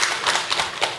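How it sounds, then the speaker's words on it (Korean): A church congregation at a Sunday worship service claps for a new member. The applause is loud, close and pattering, with irregular clusters of hand claps over about a second. "우리 인사하실 때 우리 박수해 주시기 바랍니다."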